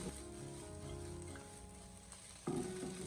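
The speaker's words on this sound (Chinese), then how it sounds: "再继续的翻炒一小会，把洋葱还有黄瓜翻炒至成熟。" Egg fried rice with diced onion and cucumber is stir-fried in a wok. A soft, steady sizzle runs throughout, and a spatula scrape clatters in near the end, all at low volume with no talking.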